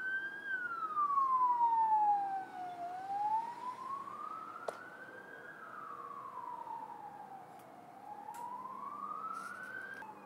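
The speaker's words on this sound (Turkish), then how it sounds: "İtfaiye geliyor yine arkadaşlar, acaba yangın mı var bir yerde acaba?" A fire engine's siren wails in slow rising and falling sweeps as it passes along a street, moderately distant and steady throughout with faint traffic underneath.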